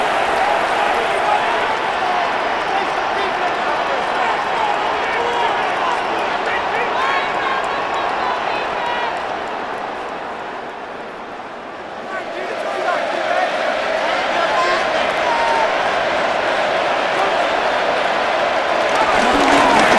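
Simulated stadium crowd roar in Madden NFL 26 during a Las Vegas Raiders versus Denver Broncos game, a steady loud wash of cheering that dips briefly midway and swells back up.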